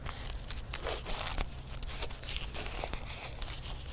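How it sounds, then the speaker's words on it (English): Crepe paper crinkling and crunching as it is wrapped into Halloween surprise balls, a soft continuous rustle with scattered crisp tears and crackles, close and fairly quiet with no speech. "You can probably hear my crepe paper crunching."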